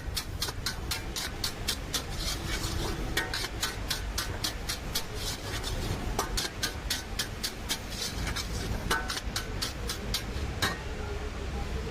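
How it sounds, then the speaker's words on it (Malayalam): A metal spatula scrapes and taps rapidly against a pan while Mumbai-style street-food fried rice is stirred, making a steady run of sharp clicks over a low background rumble. "വീണ്ടും ഇളക്കിക്കൊണ്ടിരിക്കുകയാണ്."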